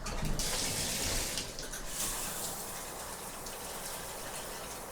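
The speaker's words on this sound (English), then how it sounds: "Now let's do a shower test." A shower sprays into a deep, old bathtub in a hotel bathroom, a steady hissing gush of water with a slightly louder start, heard alone without talk.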